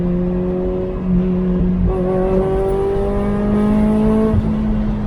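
A Toyota MR2 roadster's 2ZZ-GE engine with stage 2 cams and ECU tuning revving nearby, a steady loud drone that steps up in pitch midway, holds, then drops back, with no talking.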